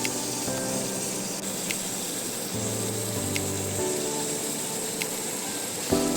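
Pomfret fish pieces frying in hot oil in a kadai for a Bengali mustard curry, a steady broadband sizzle that holds throughout, close and fairly loud, with a few faint clicks and no talking.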